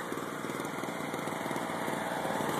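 A small two-horsepower, 1200-watt two-stroke generator drones on continuously with a steady, buzzy rattle, heard from a short distance with no voices.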